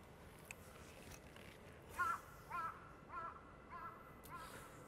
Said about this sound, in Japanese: カラスにムカつく